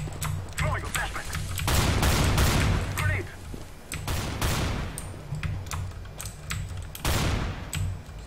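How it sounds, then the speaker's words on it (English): Gunfire and grenade blasts erupt in a CS:GO match, including a thrown flashbang, as loud bursts and rapid shots that come in clusters over steady keyboard clicking, with sharp transients standing out near the start and end. "Throwing a flashbang."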